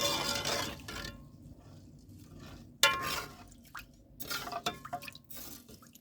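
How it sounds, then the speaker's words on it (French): Rice being washed in water gives close splashing and dripping in bursts, with a couple of sharper sloshes and light clinks against the container and no voices. "Nous allons commencer par laver notre riz."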